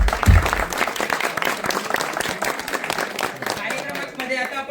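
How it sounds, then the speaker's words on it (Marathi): Loud, dense audience applause at a Shivaji Jayanti cultural program at Ulyanovsk State Medical University, sustained clapping from a crowd close by, with a voice partly audible over it. "त्यांच्यासाठी एकदा जोरदार टाळ्या"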